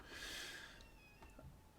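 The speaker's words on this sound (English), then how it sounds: "I've got a complaining cat out there" A complaining cat outside meows faintly from a distance. The thin, wavering cries sit over a soft background hiss.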